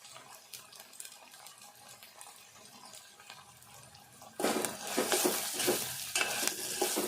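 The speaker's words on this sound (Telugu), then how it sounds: "ఈ పచ్చిమిర్చి, ఉల్లిపాయ, మసాలాలన్నీ ఇట్లా వేగాలి." Green chillies, onion and spices for aloo biryani frying in a pan: a few seconds of quiet stirring, then a sudden loud, crackling sizzle that continues close up to the end.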